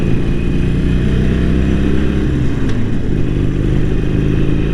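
A motorcycle being ridden on the road, its engine droning loud and steady from close by with rumbling wind and road noise throughout and a faint clack midway.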